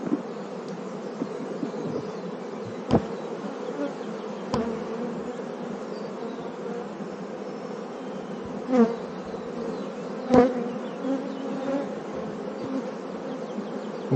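Honeybees drone in a dense, steady buzz as a hive is opened and frames are handled, with a few sharp knocks and clicks from the woodwork standing out over the continuous hum; no voices.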